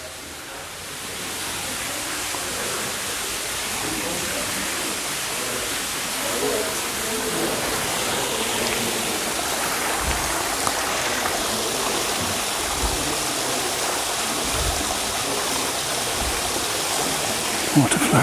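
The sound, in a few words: water flowing in a glasshouse water feature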